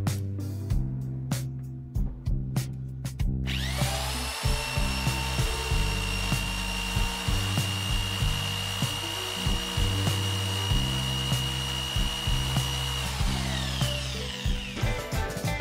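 Browynn compact electric drill, 450 W class, run at its highest speed: a few quick taps and clicks, then a steady, loud, high-pitched motor whine that holds close and constant for about twelve seconds before dropping off.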